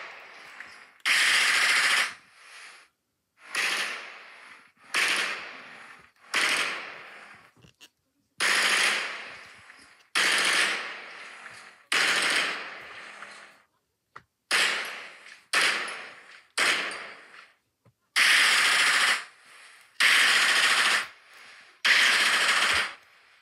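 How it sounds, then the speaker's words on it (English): Repeated bursts of gunfire in a quick sequence, about fifteen sharp blasts at uneven spacing across the stretch, loud and close with brief silences between them and no talking. "Let me shoot the body one more time."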